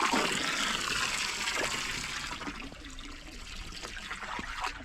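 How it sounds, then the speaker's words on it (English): A garden hose fills a backyard tank on a cold day, a steady close splashing trickle of running water with a slightly hollow, bubbling character that continues throughout, with no voices. "I gotta let this fill up, then unhook the hose so it doesn't freeze."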